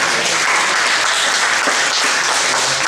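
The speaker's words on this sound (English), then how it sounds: "just give a round of applause for Brother Landon" A congregation in a church applauds at a youth evening, giving loud, continuous, dense clapping from the whole room with no talk over it.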